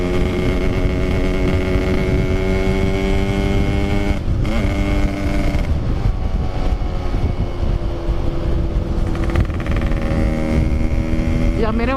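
Motorcycle engine droning steadily up close while riding through corners on a road trip, its pitch rising and falling with the throttle, with wind noise throughout.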